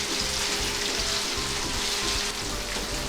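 Chicken with onion and capsicum sizzles steadily in a pan for a Calcutta kathi roll filling, a loud continuous frying hiss with soft rhythmic stirring scrapes underneath.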